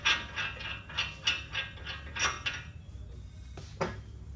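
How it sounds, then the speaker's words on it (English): Ratchet wrench tightening 14 mm bolts on a Ford F150 wheel hub assembly, a steady series of close metallic clicking strokes, then a pause and a couple of final clicks, with no talking. "14 millimeters, tighten them up"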